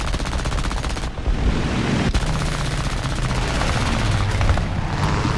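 Rapid machine gun fire from a fighter aircraft during an arcade air battle in War Thunder, dense continuous bursts of loud gunfire over steady engine drone, with no talking.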